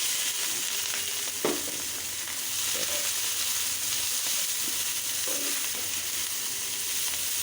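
Leafy greens with shrimp sizzling in a hot pan, a steady bright frying hiss throughout with occasional soft stirring scrapes and clinks.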